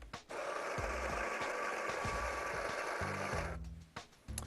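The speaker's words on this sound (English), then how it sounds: "insert it into our grinding cradle and press the grinder to start" A Breville Dose Control Pro grinder on a Duo Temp Pro espresso machine grinds coffee into a portafilter, a steady close mechanical whir with a faint high whine, starting and stopping cleanly before a short final burst.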